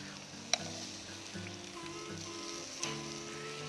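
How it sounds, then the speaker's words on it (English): Sauced BBQ ribs sizzle on a modified grill, a steady, moderately quiet crackling fry with a couple of sharp pops or clicks standing out above the even sizzle. "we'll go ahead and put them on our modified grill to get that sauce caramelized"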